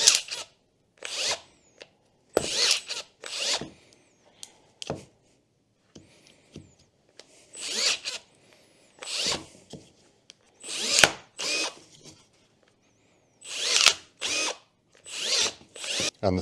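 Milwaukee battery-powered pruning shears cut through a branch in a string of short, close motorized whirs and snips, repeated with brief pauses between cuts.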